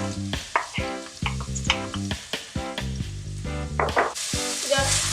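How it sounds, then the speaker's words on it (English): Green peppers and onions hit melted coconut oil, with a loud broadband sizzle surging in near the end after a stretch of tonal, rhythmic sound with faint crackle. "So once your coconut oil is melted, we're going to add the green peppers and the onions."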